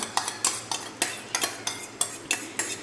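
A spatula or spoon scrapes and clinks rhythmically against a pan as onions, green chillies and ginger paste fry for egg fried rice, about a dozen quick strokes over a faint sizzle, near and with no talking.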